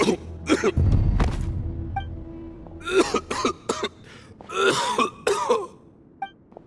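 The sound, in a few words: coughing, from a video game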